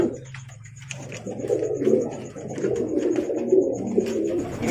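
Domestic pigeons coo repeatedly at close range, with low throaty rolling calls coming in a loose rhythm of overlapping phrases over a quiet background.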